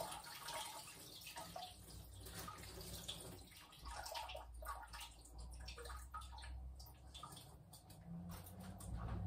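Murky rinse water from rice being tipped out of a cooking pot and running over a hand into a sink, quiet irregular trickling and dripping with soft splashes.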